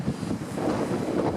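Wind gusts across a beach with air around 15 degrees, a broad rushing roar buffeting the microphone steadily and fairly loud, alone without talking.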